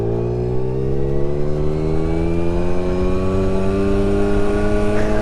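A 1983 Honda Motocompo scooter's two-stroke engine runs close and loud, its buzzing, harmonic-rich tone climbing steadily as it revs.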